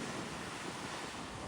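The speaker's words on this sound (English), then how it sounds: "The wild waves of the Mediterranean." Wild Mediterranean waves at the Cap Salou coast on the Costa Daurada, a dense, steady wash of surf mixed with wind buffeting the microphone, with no talking.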